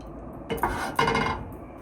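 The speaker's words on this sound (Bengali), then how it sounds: "এই ফ্রাই প্যানে দিয়ে দেবো একটু তেল।" A frying pan is handled on the stove as a little oil goes in, with two sharp metallic clanks and scrapes in a quiet kitchen and no talking.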